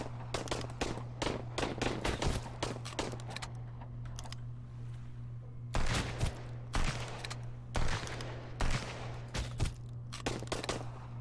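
Repeated gunfire in the survival game Sunkenland: rapid clusters of sharp close shots, a dense volley at the start, then a pause and several more spaced bursts, all over a steady low hum with no talking.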